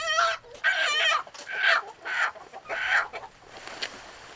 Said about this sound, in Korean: 이런 날 닭 잡는 일은 복동 씨 몫이다.